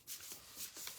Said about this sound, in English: I'm just going to keep shuffling just in case.